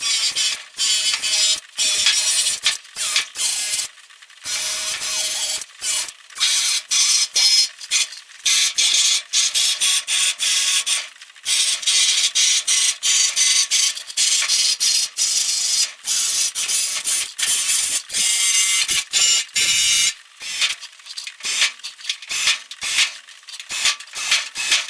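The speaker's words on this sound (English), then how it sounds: "I got all the pilot holes drilled out" An electric drill bores pilot holes in the steel hood of a Chevy C10, giving repeated harsh, high-pitched grinding bursts separated by short silent gaps, close and loud with no talking.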